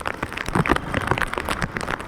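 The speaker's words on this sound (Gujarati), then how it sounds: "વરસાદ પણ ચાલુ છે ને અહીંયા કેટલું બધું પાણી ભરાઈ ગયું છે" Monsoon rain pours steadily over a flooded village, a dense, even patter of drops on water and surfaces that continues without a break from start to finish.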